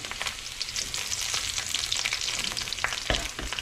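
Eggs frying in hot oil with garlic and dried chili, a steady loud sizzle with occasional stirring scrapes, close by with no talking.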